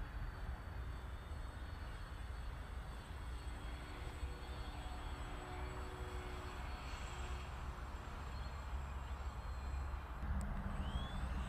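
A Dynam PBY Catalina RC model seaplane flies overhead, its electric motors giving a steady, distant drone with a faint whine over outdoor background noise.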